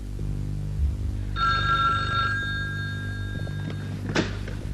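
A telephone bell rings in a drama scene, one clear metallic ringing burst lasting about a second, followed by a fainter trailing tone and a brief clunk, heard alone over a low room hum.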